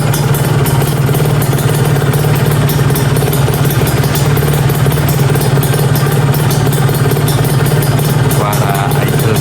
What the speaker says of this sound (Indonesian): Suara idle dari mesin